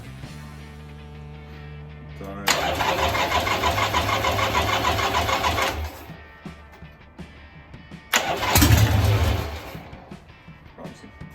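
A 1970s Harley Roadster XLS1000 chopper, with choke on, new battery, fresh oil and new plugs, cranks and catches, running loud and rough for a few seconds, dropping off, then firing again with a heavy blip before settling lower.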